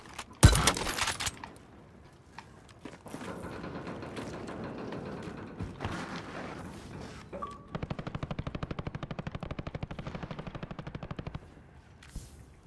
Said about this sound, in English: someone's shooting at me from the airport itself